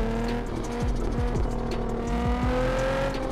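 Car engine in the racing game Assetto Corsa, a steady droning hum running the whole time with several falling pitch sweeps as gears shift, loud and close, with no talking over it.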